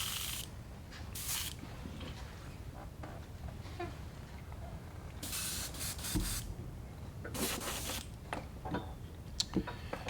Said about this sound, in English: I'll give the airbrush a real quick rinse here.